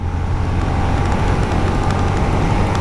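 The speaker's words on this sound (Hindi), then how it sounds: "full throttle, second gear cross 60, cross 80" A 2025 Honda CB350 Special Edition motorcycle is ridden at full throttle in second gear, giving a loud, continuous, close engine drone with steady road and wind roar throughout.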